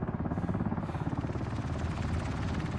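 A helicopter in the video game Ring of Elysium, a continuous rapid rotor chop with a steady droning engine, moderately loud and unbroken.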